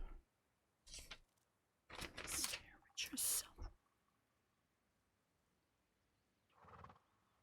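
A horse in a video game whinnies and snorts in several loud bursts separated by quiet pauses, with a softer breathy burst near the end.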